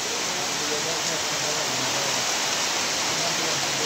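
Heavy rain pours down in a steady, dense broadband hiss that fills the whole clip without a break, loud and close, with faint low murmurs underneath.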